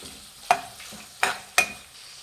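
Mutton liver frying with masala for a military hotel style pepper fry, with three sharp spatula scrapes against the pan spaced out over a soft, steady sizzle.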